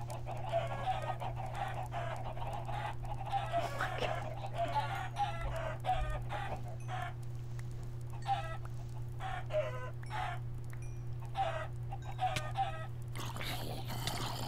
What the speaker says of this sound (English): Jake, can you spawn a bunch of chickens in here?